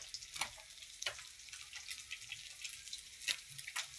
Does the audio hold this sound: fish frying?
yes